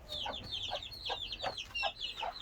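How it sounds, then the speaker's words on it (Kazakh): Chickens clucking in a backyard coop, a run of short rhythmic calls repeating about every half second, close and moderately loud with no talk. "Мына жақта бізде Қытай балапандар шықты ма екен сыртқа?"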